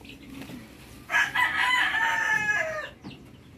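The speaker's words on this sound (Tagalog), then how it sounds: "Ito na mga kamanok yung lahi ng ng Raptor." Raptor breed chickens, a rooster crowing once loudly and close, its long drawn call ringing out over a low murmur of clucking and farmyard background.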